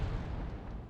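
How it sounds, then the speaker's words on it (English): A napalm bomb from a bomber striking a command unit in Wargame: Red Dragon, with a deep, rumbling, fiery burst that rolls on steadily for a moment at a moderate distance. "I also bring in a napalm bomber, and it does actually hit the enemy's command unit"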